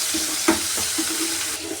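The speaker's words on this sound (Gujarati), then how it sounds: "આપણે આને સાતળી લેશું તેલમાં" Steady hiss of ginger, chilli and garlic paste sizzling in hot oil, with a few light scraping stirs of a spoon in the pan.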